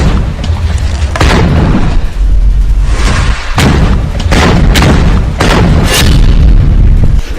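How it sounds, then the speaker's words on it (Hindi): Loud explosions with computer-generated graphics in a Hamas attack sequence: repeated deep booms and bursts come one after another over a dense, continuous rumble, with no talk. "जिसमें शुरुआत से पहला धमाका कंप्यूटर जनरेटेड ग्राफिक्स से दिखाया गया"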